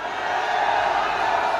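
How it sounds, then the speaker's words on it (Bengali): A rally crowd claps and cheers to welcome a Trinamool Congress candidate for the Malda Dakshin Lok Sabha seat, a dense, steady wash of applause with no one speaking over it. "তাকে আমরা সবাই মিলে সম্বর্ধনা জানাবো করতালির মাধ্যমে"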